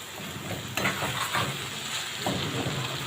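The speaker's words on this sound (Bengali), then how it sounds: "এখন আমি ভালো করে নেড়ে দেব" Fried fish with chopped coriander leaves being stirred in a pan, a continuous soft sizzle of frying with occasional scraping stir strokes, close and moderately quiet.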